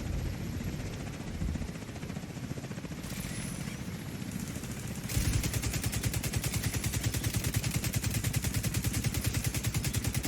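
Sustained automatic weapon fire in The Division 2, a rapid steady stream of shots that grows louder and denser partway through, with no voices over it.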